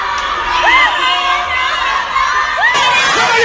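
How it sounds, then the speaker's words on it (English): A crowd in South African streets cheering and chanting, with shrill whoops and shouted voices rising over a dense, continuous roar of many people close by. "people were out there in the masses, like a number of them in the streets dancing, cheering, Corona, Corona"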